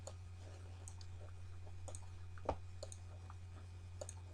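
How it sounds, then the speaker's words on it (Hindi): A computer mouse gives faint, crisp clicks, several quick double-clicks spread across the stretch, heard over a steady low electrical hum in a quiet room. "और अब मैं इस पीसी को डबल क्लिक करता हूँ"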